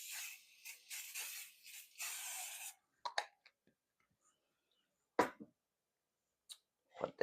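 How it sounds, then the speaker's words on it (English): Cooking spray hisses onto a pan in a few bursts, close and breathy, with a longer spray up front followed by quiet gaps and scattered clicks and taps. "I'm gonna spray this pan down."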